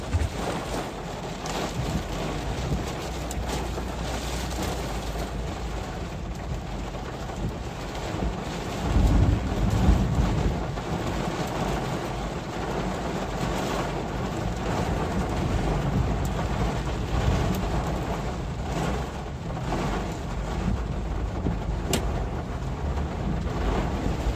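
A severe thunderstorm in Chester, Virginia roars continuously with heavy rain and gusting wind buffeting the microphone, a deep thunder rumble swelling around the middle.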